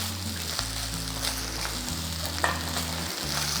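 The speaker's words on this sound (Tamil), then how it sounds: "இப்போ நல்லா ஒரு பிரட்டி விட்டுடலாம்" Paneer bhurji sizzling in a pan as it is tossed and stirred, a steady frying hiss with soft scraping, fairly quiet and with no talking.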